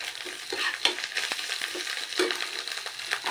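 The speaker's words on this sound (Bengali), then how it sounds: "এবার আদা লঙ্কাটা ভালো করে কষিয়ে নিই" Ginger and green chili frying with spices in a pan, a steady close sizzle broken by scraping stir strokes at irregular intervals, with no talk.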